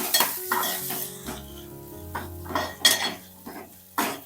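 Onion, garlic paste and tomato being stirred in hot oil for a Konkani crab curry, with a soft sizzle under repeated scraping and clinks of a spoon against the pan, close by.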